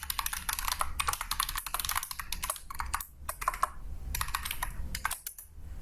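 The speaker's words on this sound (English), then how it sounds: "I can type it in the console here" Fast typing on a computer keyboard, a dense close clatter of keystrokes with brief pauses, alone without speech.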